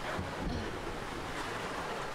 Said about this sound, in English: A little bit choppy. Waves are a little bit rolly.